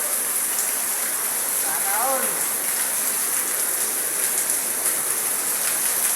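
Heavy rain pours in a dense, constant hiss, loud and unbroken throughout, with a brief faint voice-like sound partway through.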